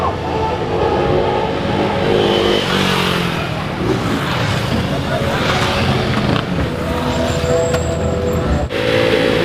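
KTM motorcycles racing at a Guwahati event, engines droning loud and steady through the whole stretch with crowd and announcer noise mixed underneath.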